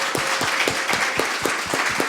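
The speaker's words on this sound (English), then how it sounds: "that was a very big clap" An audience applauds at the close of a project evaluation meeting, a burst of irregular, steady clapping from a group lasting about two seconds.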